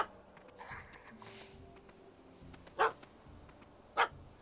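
A dog barks twice in The Witcher 3, two sharp yaps about a second apart over quiet game ambience, with faint softer whimpering sounds earlier.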